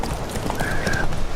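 Horse hooves clip-clopping in The Witcher 3: Wild Hunt, a steady close trot of hoofbeats with faint game ambience and a brief tonal whine over it, no talking.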